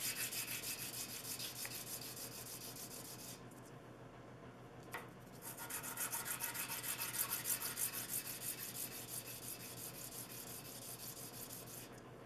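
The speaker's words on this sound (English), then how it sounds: "I'll just take the burrs off with some sandpaper" Hand sandpaper rubs burrs off drilled parts in rapid back-and-forth strokes, a close, rasping scrub that pauses briefly partway through and then resumes.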